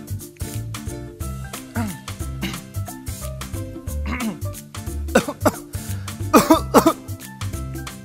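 A child coughs after eating chocolate: a series of rough, throaty coughs and throat-clearing bursts scattered through the clip over a steady musical background.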